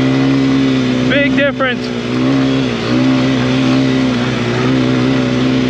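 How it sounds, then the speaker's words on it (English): Quads (ATVs) riding through snowy woods, a steady droning engine held close and loud from start to finish, with a person talking briefly over it. "They're on quads, as you can see"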